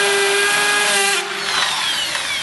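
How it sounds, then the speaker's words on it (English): A hammer drill whines steadily as it bores through carpet tack strip into concrete, close and loud, its pitch shifting slightly midway. "Drill right through, right into the concrete through the top of the tack stripping."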